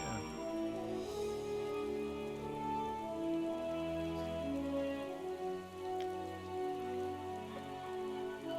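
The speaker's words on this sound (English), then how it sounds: "And suddenly it moved to rain." Rain falls steadily in Final Fantasy XIV: Endwalker, a constant wash of drops mixed with sustained game music tones throughout, with no talking.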